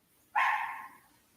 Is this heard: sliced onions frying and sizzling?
no